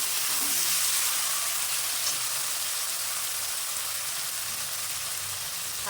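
Chopped tomato and onion fry in a pan, giving a dense, even hiss of sizzling that carries steadily throughout at close range, with no voices heard.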